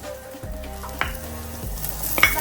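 Tomatoes going into a chicken curry frying in a pot, a soft continuous sizzle with a few clunks and stirring knocks of a spoon against the pot, close by and without voices.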